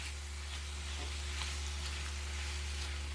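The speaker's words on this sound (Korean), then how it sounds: "고춧가루도 지금 넣습니다. 얘네를 이 불과 기름에 볶아줘야 됩니다." Chili powder, ground coriander seed and other spices fry in hot oil for pork vindaloo. A steady, dense sizzle runs close and unbroken over a low hum, with no talk.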